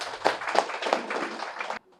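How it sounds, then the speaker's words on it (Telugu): An audience at a meditation training class in Nizampet claps loudly for a woman participant, a brief burst of dense applause that stops abruptly. "మేడంకి గట్టిగా చప్పట్లు కొడదాం."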